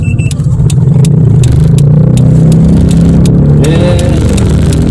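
A 2001 Hyundai Atoz accelerates to overtake, its small engine droning loud and close from inside the cabin with a rising hum and scattered clicks and rattles.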